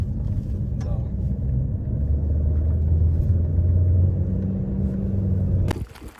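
A car driving along a mountain road toward Loarre Castle, heard from inside as a steady low engine and road rumble that holds for several seconds, then cuts off abruptly near the end.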